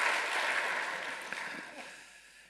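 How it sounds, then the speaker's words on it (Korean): A church congregation applauds during a Korean Sunday worship service, a broad wash of steady clapping that starts full and gradually fades away. "박수해 주시기 바랍니다"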